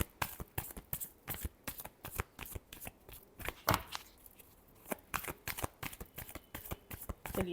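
Tarot cards being shuffled up close, a steady run of crisp riffling slaps and flicks in quick bursts with brief pauses, heard alone without talk.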